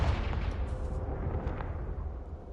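A Confringo fire spell in Hogwarts Legacy bursts in a heavy, booming blast that rumbles on and slowly fades over a couple of seconds.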